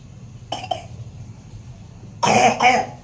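Two separate coughs nearby, a short one early and a harsher, longer double cough later, with quiet room noise in between.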